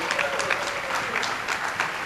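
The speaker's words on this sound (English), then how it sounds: "All the teachers clap harder." Teachers in an audience applauding at a speech, dense steady clapping from a crowd with a few louder claps standing out, sustained throughout the moment.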